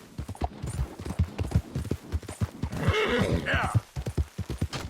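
Horse hooves galloping in Red Dead Redemption 2: a fast, rhythmic, close clip-clop with a loud whinny partway through and a brief spoken word over the top.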